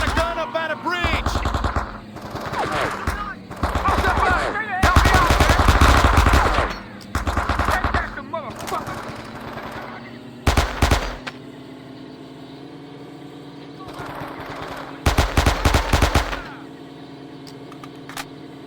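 Machine gun fire in the Vietnam War video game Men of Valor comes in several loud, close bursts of rapid shots, separated by pauses, with a low engine drone underneath and occasional shouting voices.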